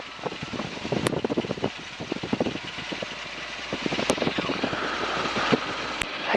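A small propeller aircraft taxis out ahead of a wing walk, its engine rumbling and chopping close by, growing steadily louder and more continuous toward the end.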